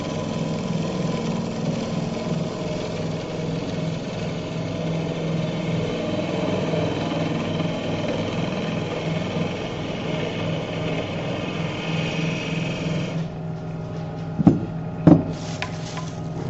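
A wood lathe spins a bowl while a skew chisel refines its surface, giving a steady, close whir and hum that runs without a break. The motor cuts off near the end, followed by a couple of sharp knocks.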